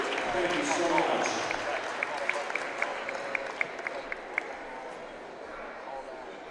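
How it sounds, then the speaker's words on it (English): A crowd at a boys' high school basketball game applauds for the sponsors. The clapping is moderate and fades away over a few seconds, with sharp squeaks and thumps from the gym floor in the background. "For all the sponsors, please give a round of applause."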